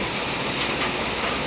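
Steady rain falls on a rural path in northeastern Thailand, a dense even hiss that fills the whole moment without pause or voices.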